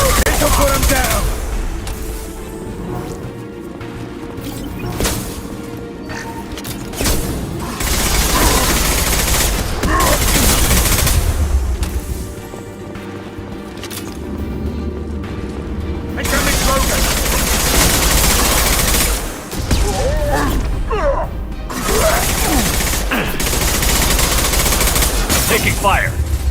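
Dense, sustained automatic fire from the video game Mass Effect 2 rattles loudly almost without pause, with booming impacts and voices shouting over the combat.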